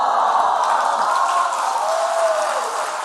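Applause from a church congregation at an Easter special prayer service, a steady dense clatter of many hands that keeps going for the whole stretch without a break.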